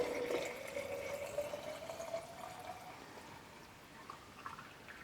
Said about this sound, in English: Right now with the finished coconut milk, you can pour into your glass jar carefully